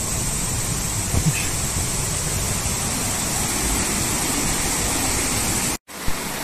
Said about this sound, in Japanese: はい、白龍の滝ですね。